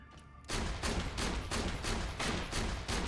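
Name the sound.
Hyperion Bullpup shotgun firing in video game Borderlands The Pre-Sequel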